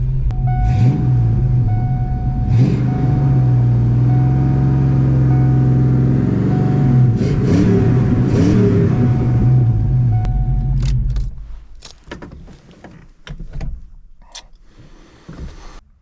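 A car engine runs loud and steady with a low rumble and rising revs as the car drives, then cuts off near the end, leaving quieter scattered clicks and knocks.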